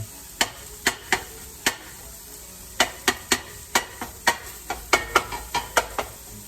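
Bacon rendering fat in a soup pot, a soft sizzle beneath regular sharp scrapes and clicks of stirring, close by and with no talk.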